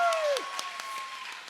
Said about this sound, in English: please give a round of applause to Shruti, the MC tonight